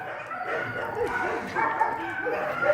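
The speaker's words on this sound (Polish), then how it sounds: "Piękny, miły, potulny pieseczek." Dogs bark at the animal shelter on Metalurgiczna Street in Lublin, with repeated yaps and barks at moderate distance under steady human talking.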